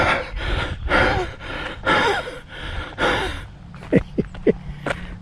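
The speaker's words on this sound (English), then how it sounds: "I don't know if you can hear me breathing or not." Heavy breathing after a walk uphill, about five loud, close, deep gasping breaths in a steady rhythm, followed by shorter, quieter huffs and sniffs.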